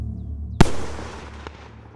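A single sharp gunshot effect in a World War II village audio drama cracks loudly once, then trails off in a fading echo, with a fainter pop shortly after over a low background hum.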